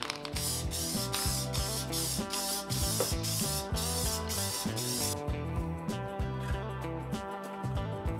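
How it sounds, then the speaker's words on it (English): Short hissing bursts of an aerosol spray adhesive, used to attach aluminum sheeting, repeat rapidly, set against a busy backdrop of music, with no voices. "I'm using spray adhesive to attach it."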